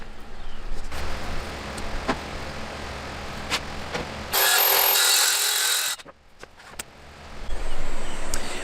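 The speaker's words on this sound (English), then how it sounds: "let's set up and sand" Wooden pieces for an outdoor free lending library box being sanded, a steady close rasp with occasional knocks, interrupted by a loud hissing burst of a power tool for a couple of seconds.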